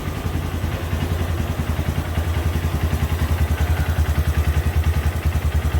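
A Honda CB Verza motorcycle engine, about three years in use, runs at a steady idle with an even, rapid pulsing thump and light mechanical clatter, close and continuous with no talking.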